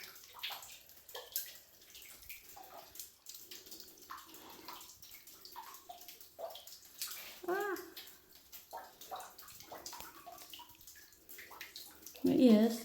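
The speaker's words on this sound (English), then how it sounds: "There is water that's dripping down from the ceiling." Water drips from the ceiling deep inside the Peg Leg Mine, a scattered patter of small drops and splashes in a quiet underground space, with a louder splash near the end.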